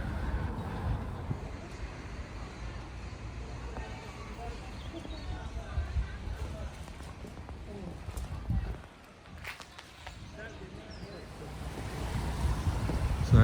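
The River Nid flows fast through Pateley Bridge, a steady broadband rush of water heard from the riverbank, with wind buffeting the microphone and a brief dip in level partway through.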